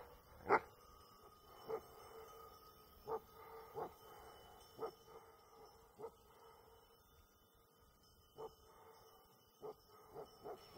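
Livestock guard dogs barking in short, separate bursts, spread irregularly over several seconds at a moderate distance, with no talk.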